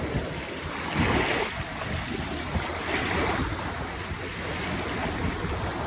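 Ocean waves washing in with a broad hiss and surge, mixed with wind noise on the microphone; no voices.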